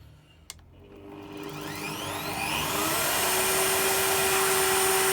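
A Bosch PDB40 drill press spins up to high speed and bores into a workpiece with a roughly 20–25 mm bit, a steady rising motor whine and grinding hum after a short click, loud and close throughout.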